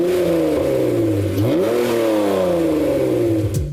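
A Honda prototype supercar engine revs up loudly and close backstage, its pitch dipping and then climbing again in a sustained, throaty roar.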